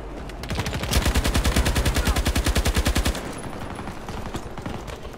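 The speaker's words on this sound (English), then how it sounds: "Maybe I can just randomly shoot this heli down." Rapid automatic gunfire in the video game Battlefield 2042, aimed at a helicopter: a loud, steady burst of evenly spaced shots lasting about two seconds, then quieter scattered firing and game noise.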